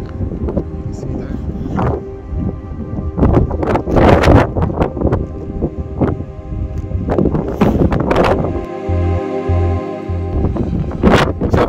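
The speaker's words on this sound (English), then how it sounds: "The wind's not dying down" Strong wind buffets the microphone on the snowy summit of Ben Vorlich in the Arrochar Alps, a loud continuous roar with gusty bursts throughout, a few low thumps near the end and bits of talk mixed in.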